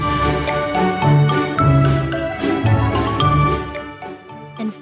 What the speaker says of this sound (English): And shiny bells to add that special Christmas touch.